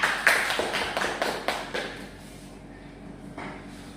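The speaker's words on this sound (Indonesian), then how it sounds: "Beri aplaus untuk Rosita." Students in a classroom clap for a classmate, a short burst of sharp, close hand claps for about two seconds that fades out, leaving quiet room noise and one faint later tap.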